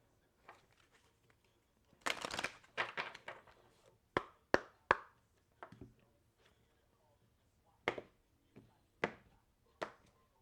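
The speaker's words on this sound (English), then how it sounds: "I shuffle." Tarot cards are shuffled in a few soft bursts, followed by separate crisp taps and slaps as they are set down one by one, quiet and close.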